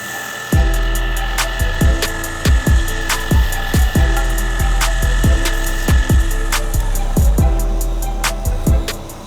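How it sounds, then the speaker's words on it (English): Rotary tool beveling the inside edge of a ring made from shed antler, a steady high whine broken by repeated short bursts as the bit touches the material, close and fairly loud with no talk. "Just bevel in the inside to give it what we call a comfort fit."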